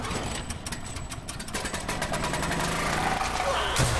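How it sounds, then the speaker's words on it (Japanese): A car engine starts and runs in the video game The Last of Us, a low rumbling hum under dense game sound that builds over a few seconds while someone talks. "さあエンジンかけるぞ。"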